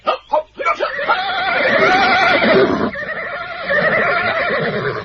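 A horse whinnies loudly and up close, a few sharp bursts followed by long, wavering neighs that fill the clip.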